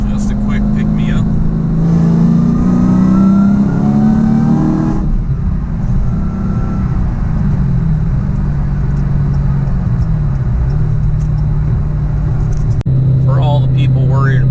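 E85-tuned car engine cruising steadily at 70 mph, a loud, continuous low drone with a slowly rising pitch for the first few seconds, then a constant hum with road and wind noise.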